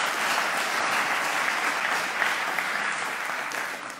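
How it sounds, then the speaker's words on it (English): Congregation applause at a Sunday church service, a steady, dense round of clapping from many people, moderately distant and continuous, tapering slightly at the end. "Last round of applause."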